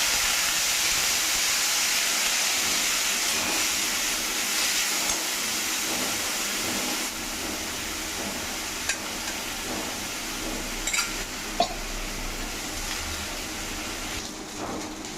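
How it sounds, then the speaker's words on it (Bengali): Rice and masoor lentils, washed together, dry-fry in a pan for khichuri. A steady, close, broadband hiss and sizzle runs throughout, with faint scraping stirs. "একটু ভাজা ভাজা করে নেবো।"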